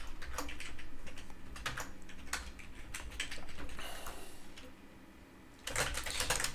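Rapid clicks from a computer keyboard as someone types code for a bot password, bursts of keystrokes with brief pauses and a dense flurry at the end, close and fairly clear.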